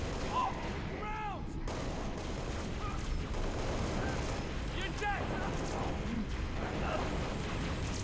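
Heavy gunfire and artillery-like blasts rumble continuously through a Halo Reach battle, dense and loud throughout, with brief radio voices speaking over the din.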